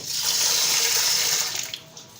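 Running water pours steadily into a kitchen sink while rice is washed and set to soak, a loud close rush that eases off near the end with a few small splashes.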